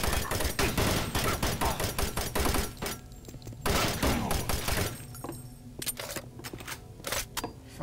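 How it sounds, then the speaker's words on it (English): Rapid bursts of shotgun fire in the video game DOOM, loud and dense, with heavy blasts firing in quick succession and brief pauses between volleys. "I thought he was using a shotgun the way it was blasting off rounds."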